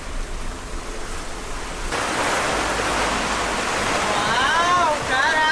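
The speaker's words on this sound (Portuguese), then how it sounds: "Agora muito vento." Strong storm wind blows around a sailboat in bad weather at Rangiroa, a loud, steady broadband roar that swells louder partway through, with faint voices underneath.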